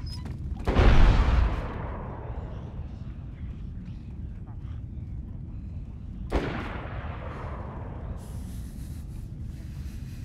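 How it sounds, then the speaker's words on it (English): Distant gunfire in DayZ on the Namalsk map, two heavy reports several seconds apart, each echoing away with a long tail, the first louder and the second fainter, with quiet ambience between. "It sounds like someone is shooting from up top."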